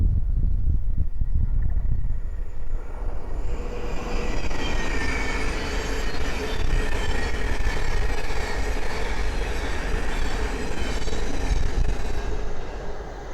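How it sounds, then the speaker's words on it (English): A Thameslink Class 700 electric multiple unit runs from Cambridge to Brighton along the East Coast Main Line at Great Wymondley, a loud continuous roar of wheels and rail noise that swells and holds steady throughout. "the next train to pass by is a Thames Link 700 from Cambridge to Brighton."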